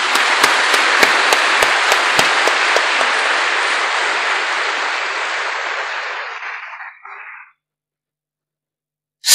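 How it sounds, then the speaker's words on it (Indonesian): Jamaah audience applauds loudly and steadily at a religious gathering, a dense clapping wash with a few sharp claps near the start that fades out over about seven seconds into silence. "Tepuk tangan untuk Cak Aziz."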